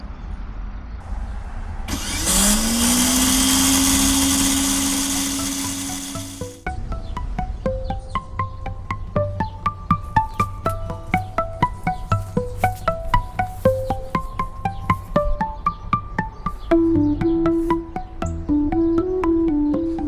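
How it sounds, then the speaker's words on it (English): A Lawnmaster 48V cordless electric tiller spins up with a rising whine and a steady broadband whir for several seconds, then stops. Plucked melodic notes follow for the rest of the clip. "depress this orange button here and hold in the handle, and the tines will start to twirl"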